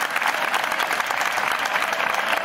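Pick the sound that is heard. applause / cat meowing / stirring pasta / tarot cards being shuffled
applause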